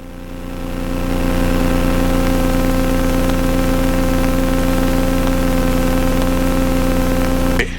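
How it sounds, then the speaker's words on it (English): A light aircraft engine idles before shutdown on a flight in northern Arizona, a steady, loud droning hum heard from the cockpit that holds even for several seconds and then cuts off abruptly at the end. "So I usually let the engine cool down a little bit, so I close that oil flap."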